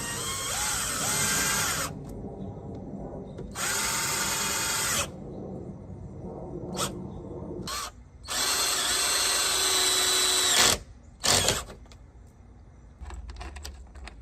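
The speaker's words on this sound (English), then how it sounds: "drill the holes on the sides now that we have it lined up" A power drill whirs in several loud bursts of a few seconds each, drilling mounting holes for a wickerbill spoiler on a Dodge Charger R/T, separated by short pauses and a couple of brief clicks.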